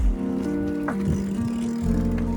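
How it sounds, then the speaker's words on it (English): Bicycle being ridden through London streets, with a steady low drivetrain hum and whirring tones that dip and shift in pitch, plus a brief mid-clip rattle, close and fairly loud with no voices. "Cycling in London, right?"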